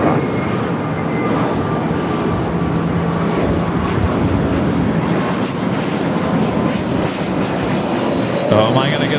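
A Boeing 777 airliner takes off from runway 25 right at LAX, its engines a loud, steady, broad roar that fills the whole stretch without letting up.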